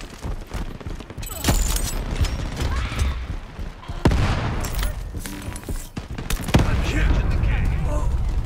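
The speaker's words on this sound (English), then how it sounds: "Throwing grenades!" Grenades and gunfire in the online shooter Shatterline: repeated loud blasts and rapid shots crash close by in bursts, with voices shouting over the chaotic firefight.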